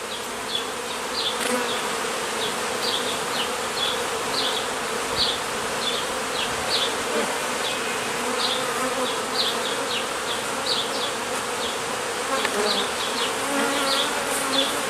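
Steady, dense buzzing of many bees swarming close around a hive outdoors, continuous throughout with individual insects whining past in brief rising passes.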